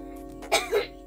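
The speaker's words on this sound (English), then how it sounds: "I'm just gonna cough." A single short cough, close and fairly loud, with a brief throaty catch at the end.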